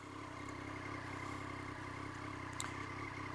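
A Triumph Street Triple RS motorcycle engine idles steadily with a low, even rumble and faint mechanical clatter, holding constant throughout with no revving.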